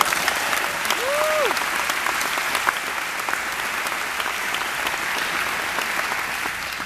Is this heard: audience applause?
yes